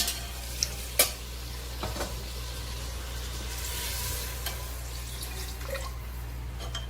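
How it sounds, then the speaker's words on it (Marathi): Chicken sizzles steadily in a hot pan while a spoon stirs, with occasional scrapes and light taps, close by. "हे बघा चिकन असं चांगल्या पद्धतीने परतलं आहे."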